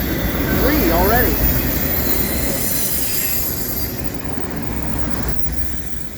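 A fast CSX autorack freight train roars past on the Pittsburgh Subdivision, loud and close, with steady rumbling wheels and a brief squeal, the din easing slightly toward the end.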